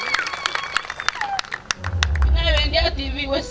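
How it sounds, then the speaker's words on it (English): Congregation in a church service clapping hands, sharp claps scattered over a voice, then building into a denser, louder burst of clapping and crowd noise with voices mixed in. "Clap your hands to Jesus"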